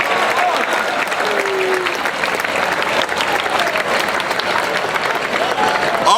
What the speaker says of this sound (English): give yourselves one fine round of applause for going green at Jesuit